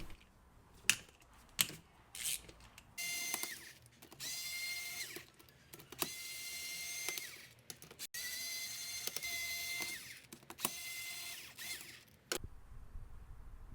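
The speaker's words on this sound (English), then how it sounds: "I loosen each bolt in a crisscross pattern." Bolts on the gold-coloured case of a Honda CRM250AR two-stroke engine being loosened one after another with a ratcheting hand tool: bursts of rapid clicking and whirring spaced by short pauses, close and fairly quiet, with no talk.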